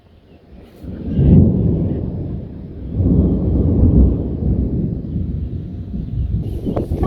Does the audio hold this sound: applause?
no